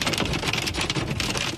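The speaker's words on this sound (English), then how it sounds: "torrential rains, dusty winds, and large hail battering parts of the country" Torrential rain and hail pound down in a storm, a dense, loud, continuous roar of drops striking hard surfaces with no break throughout.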